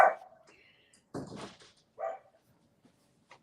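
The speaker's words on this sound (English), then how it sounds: "Every time we go live, the doggies start to bark." Dogs bark indoors in a few loud, close bursts separated by pauses, with fainter yips and whimpers trailing between them and no talk.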